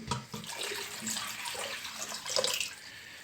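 Water poured in a steady splashing stream into a pot for kadayıf syrup, close and fairly loud, running for a few seconds without pause.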